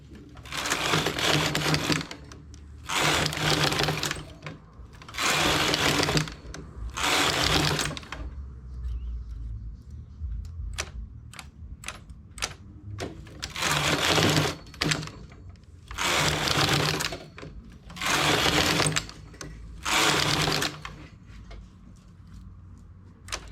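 A knitting machine fitted with a ribber works a relief stitch: several loud carriage passes sweep across the needle bed one after another, each a sustained rushing clatter, with a quieter stretch of small clicks and taps midway.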